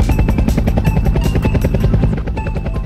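A helicopter close by, its rotor chopping in a steady, rapid, loud thump with a constant engine whine underneath, continuous throughout with no voices.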